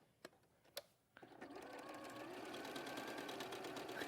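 A domestic sewing machine stitches fabric in a steady, continuous run that starts after a couple of sharp knocks and keeps going close and fairly loud, with no talk over it.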